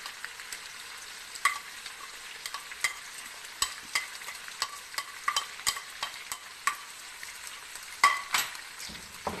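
Chicken jalfrezi with black pepper and a ground paste frying in a pan, stirred with repeated sharp scraping clicks over a soft continuous sizzle, close and steady, with no talking.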